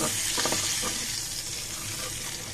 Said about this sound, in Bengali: আমার পটলগুলো কিন্তু ভাজা হয়ে গিয়েছে, আমি এগুলো উঠিয়ে নিচ্ছি